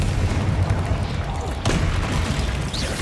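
Fire-blast spell explosions from Hogwarts Legacy fill the scene with dense, continuous booming and bursts, one sharp crack standing out midway over a rumbling, crowded combat mix.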